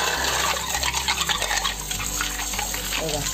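Clams are rubbed and swished by hand in water, a busy close wet sloshing with small clicks of shells knocking together, steady throughout and nearly free of talk.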